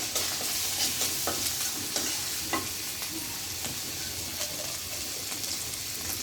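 Potatoes and flat beans with ginger and turmeric powder sizzle steadily in a pan while a spoon stirs, making scraping clicks over the constant close frying hiss.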